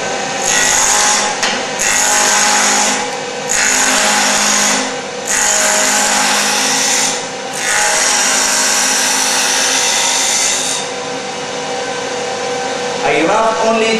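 A steel chisel scrapes and pares pine wood held at a 45-degree angle, in a run of steady rasping strokes with short pauses between them. A voice briefly comes in at the very end.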